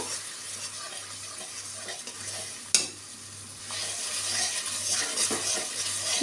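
A soaked, ground spice paste fries with ginger and garlic for an echor (jackfruit) and potato curry, giving a continuous soft sizzle under a low hum, with one sharp utensil knock and steady stirring scrapes.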